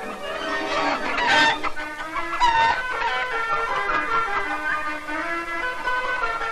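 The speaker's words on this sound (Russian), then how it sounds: "Это куры породы Лехгорн." A large flock of Leghorn laying hens at a mechanized collective poultry farm clucks and cackles continuously, many birds overlapping at close range with no talk.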